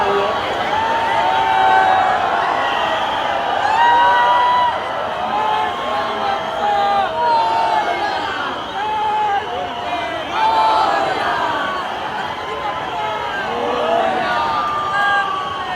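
A dense crowd at a Ganpati arrival procession gives off a continuous loud outdoor hubbub of many overlapping voices and shouts, with traffic noise beneath.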